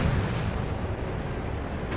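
Cannon fire in the real-time strategy game Dawn of War 2 during a 3v3 match, a heavy booming blast followed by a continuous rumbling roar of battle noise, loud and sustained, with no talk over it.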